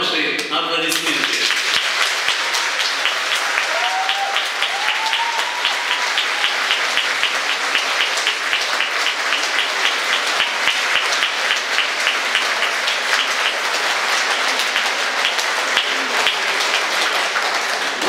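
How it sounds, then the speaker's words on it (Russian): Sustained, full applause from a concert audience for a chamber choir, dense and loud throughout with many overlapping hands, with a brief voice at the very start. "Ваши аплодисменты."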